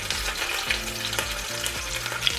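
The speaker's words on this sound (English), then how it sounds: "Let's cook bacon first. Cooking both sides." Bacon fries in a tablespoon of cooking oil for okonomiyaki, a steady close crackling sizzle with faint pops and soft periodic stirring, no one speaking.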